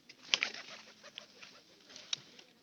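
Pigeons pecking at scattered sesame seeds, with a couple of short sharp calls or wing flutters standing out over a soft, busy background of nearby bird sounds.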